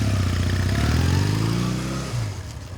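A 1987 Honda Rebel 250 motorcycle engine runs loud and close with a steady low rumble, its pitch dipping and settling into idle toward the end.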